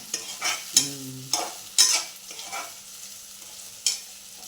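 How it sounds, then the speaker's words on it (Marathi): Vegetables are sautéed in oil for fried rice, with a handful of spatula scrapes and stirring strokes over a quiet sizzle, close up and spaced irregularly. "यात काय टाकलंय तेल टाकलंय हे सगळं परतून घ्यायचं चालू आहे"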